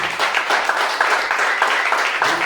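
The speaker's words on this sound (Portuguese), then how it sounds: "Vamos dar um lindo aplauso ao Jesus Cristo por isso." Congregation applauding during a Portuguese-language morning church service; steady, dense clapping fills the whole stretch at moderate loudness, with no voices over it.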